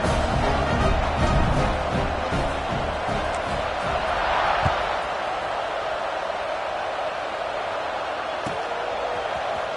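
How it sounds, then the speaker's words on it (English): A stadium crowd at an American football game keeps up a steady, loud wash of buzzing noise after a touchdown, distant and diffuse, with faint scattered cheers and thumps within it. "this crowd is buzzing after that last score"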